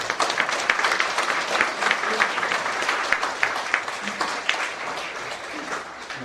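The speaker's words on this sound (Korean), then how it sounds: "두 분 한번 박수로 우리 감사해 주시면 좋겠습니다" A church audience at a pastor's book-launch celebration in a small auditorium claps steadily, many hands producing a crisp, continuous patter that stays fairly close and even before easing slightly at the end.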